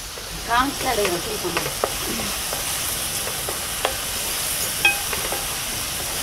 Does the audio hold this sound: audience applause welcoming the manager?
no